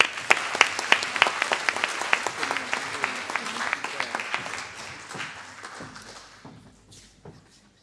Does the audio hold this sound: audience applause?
yes